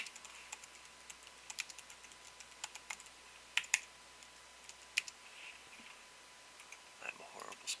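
Quiet typing on a computer keyboard while an ad is being written, with irregular bursts of light clicking keystrokes spread through the clip, close and soft, with faint background hum.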